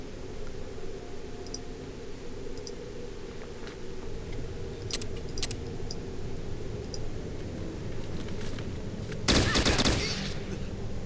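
Gunfire in the tactical game Fallout Tactics: scattered sharp clicks and ticks over a low background hum, then a dense burst of shots near the end.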